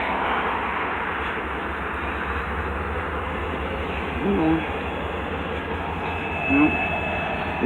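A train idles on the line before departure, a steady low rumble with broad noise filling the scene, plus a couple of brief louder hisses or squeals near the end.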